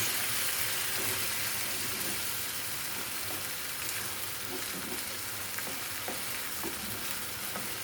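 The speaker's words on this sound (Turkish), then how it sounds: "Bir tur daha karıştırıyoruz." Menemen of eggs and vegetables sizzles and fries steadily in a pan while being stirred, with scraping taps of the utensil recurring through the continuous crackle, close and alone with no talking.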